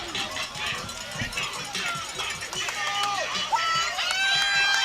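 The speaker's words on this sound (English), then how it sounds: "The crowd is amazing tonight, electrifying, and the Pirates are giving every reason to cheer" A stadium crowd at a high school football game between Pine Tree and Chapel Hill roars and cheers steadily in the distance, with a commentator talking over it.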